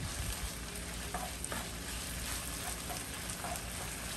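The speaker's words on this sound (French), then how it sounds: "Là, je tourne notre sauce." A ginger, onion and chili sauce sizzles steadily in a pan while being stirred, a dense, even frying hiss with faint scraping ticks and no talking.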